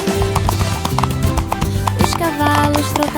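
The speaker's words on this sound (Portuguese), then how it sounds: "os cavalos trotavam lado a lado." Horses trot side by side on a farm, their hooves clip-clopping in a steady, quick rhythm with an occasional whinny, set against bright children's song music.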